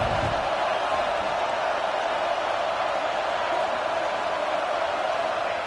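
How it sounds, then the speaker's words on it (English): A dense, steady roar of a large stadium crowd in an American football video game fills the whole stretch, loud and continuous without distinct voices standing out. "Crowd is loud,"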